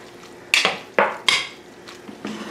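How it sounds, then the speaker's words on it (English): A utensil clinks and scrapes against a pan several times while cream and egg are quickly mixed into spaghetti for carbonara, sharp metallic taps spaced a fraction of a second apart, close and clear with no talking. "we're just going to go ahead and add our cream and our egg into this and mix it around quickly"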